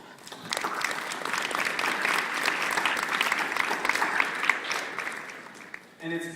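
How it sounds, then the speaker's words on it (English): A chapel audience at a university service claps steadily, a dense patter of hands building quickly, holding for several seconds and fading out before a voice briefly returns. "we can offer those friends a round of applause as well."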